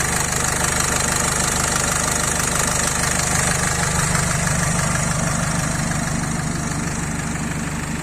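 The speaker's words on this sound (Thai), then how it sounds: "ลองฟังเสียงเครื่องดูนะครับ หลังจากแก้ระบบวาวเสร็จเรียบร้อยนะครับ" A 2020 Isuzu 1.9 Blue Power diesel engine idles after valve repair and remapping, a loud, close, continuous clattering rumble that holds steady throughout with no talk.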